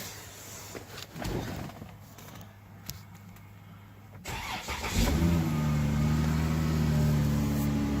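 A car engine being repaired for a P0023 camshaft code cranks with a few rattling turns, catches around the five-second mark and settles into a steady, close idle hum with a slight rise in revs.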